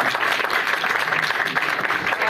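An audience applauds a poet at a Punjabi poetry gathering in Chunian, Kasur district: a dense, steady burst of many hands clapping, loud and close, lasting a couple of seconds.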